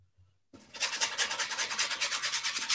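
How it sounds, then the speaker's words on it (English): A gloved hand scrubs pastel into paper after a brief quiet start, a close, loud rhythmic rasping rub with steady back-and-forth strokes. "So you'll hear a lot of scrubbing sounds."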